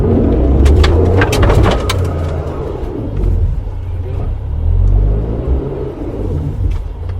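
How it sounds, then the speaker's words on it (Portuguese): A Ford EcoSport Titanium three-cylinder pulls away up a steep slope with traction control switched off, a loud low engine rumble rising and falling throughout, with a voice talking over it early on and birds faintly in the background. "Agora eu vou arrancar aqui nessa subida que é bem pronunciada,"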